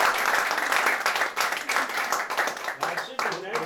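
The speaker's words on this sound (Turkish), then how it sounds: "İlk alkış oldu. İlk alkış aldım." Audience applause at a talk by a young architect, a dense steady patter of clapping filling the whole stretch, with a voice speaking over the end.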